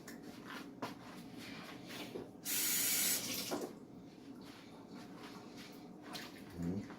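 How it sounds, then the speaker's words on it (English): Cold water runs and splashes briefly into a measuring cup for about a second, amid quiet kitchen rustling and handling noises. "I'm going to start out putting 3/4 cups of water, cold water"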